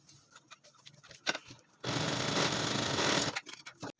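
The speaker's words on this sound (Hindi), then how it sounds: "अब हम इस पर सिलाई कर देंगे।" A sewing machine stitches elastic onto pant-style trousers with a loud, steady whir lasting about a second and a half, with light handling clicks and taps before and after.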